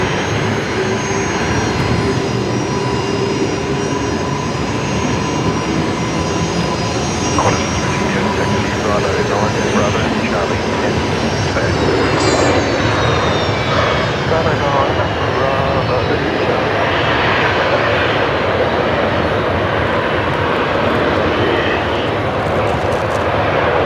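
Airliner arriving at Brisbane Airport on the flight from Honiara: a loud, continuous jet engine roar with a whining tone that slides downward partway through, with voices talking over it.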